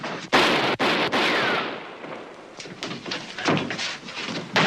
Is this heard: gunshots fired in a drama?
yes